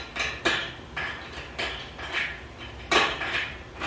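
Repeated light metallic clinks and taps from a metal part of a Hilco UltraMax honey extractor hitting a holding screw, about a dozen in irregular rhythm, close and fairly quiet, with no talking.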